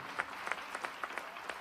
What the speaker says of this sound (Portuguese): vamos dar um aplauso a Jesus, por favor